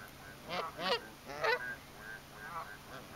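Geese honk in several loud, nasal bursts, some grouped in quick pairs, with duck-like quacking quality, close by over a quiet outdoor background.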